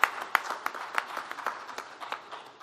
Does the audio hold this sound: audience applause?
yes